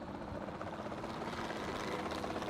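A helicopter in the Jurassic World Evolution 2 video game drones with a steady, continuous rotor and engine rumble, alone and at even loudness throughout.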